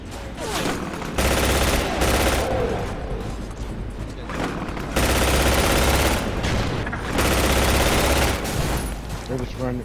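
Chain gun firing in the Area 51 video game, with loud sustained bursts of rapid automatic fire in long waves and brief lulls between them, while voices talk over the shooting.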